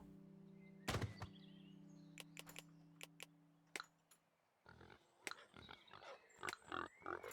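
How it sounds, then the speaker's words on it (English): Short grunts and oinks from a pig in a farming video game, scattered among soft clicks and thunks at a low level, with no speech. "Now my pig's happy, my animals are happy."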